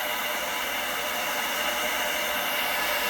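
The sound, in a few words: blow dryer blowing on a paint pour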